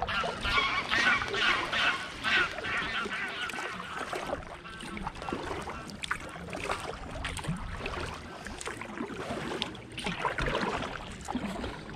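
Geese honk repeatedly near a river, loud and fairly close, their irregular calls set against paddle splashes and outdoor ambience, with a faint voice in the background.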